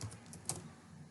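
Computer keyboard typing during web-development work, several quick, soft key clicks in an irregular burst, close and quiet, with no talk.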